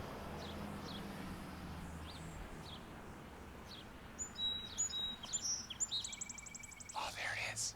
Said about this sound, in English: That might be a warbler, maybe